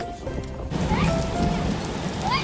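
Evening rain in Ireland falls as a steady dense hiss of drops on surfaces, close and continuous, with a few faint chirps from birds nearby and no voices.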